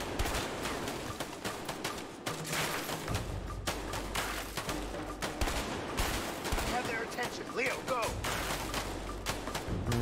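Covering gunfire in A Way Out rattles in dense, overlapping bursts that continue without letup, loud and close. Shouting voices run underneath the shots.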